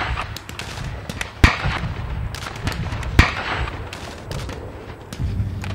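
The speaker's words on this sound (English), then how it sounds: "rifles and open fire." A sound effect of Union infantry firing a rifle volley at Gettysburg: two sharp, loud cracks stand out over a dense spread of smaller distant pops and rumbling battle noise, with no voices.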